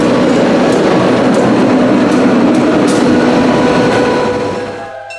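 Cincinnati Scenic Railway train rolls past close by, a loud steady rumble of wheels on rails with faint rhythmic clicks, easing off toward the end.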